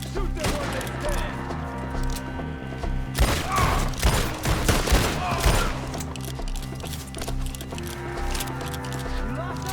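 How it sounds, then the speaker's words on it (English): Gunfire in Red Dead Redemption 2 crackles in rapid, overlapping volleys that swell in the middle, with sheep bleating and people shouting over a steady game background. "Shoot them when they stand!"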